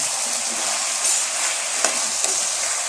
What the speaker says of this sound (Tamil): காயை போட்டு நல்லா ஒரு தடவை கிளறி விட்டுக்கோங்க.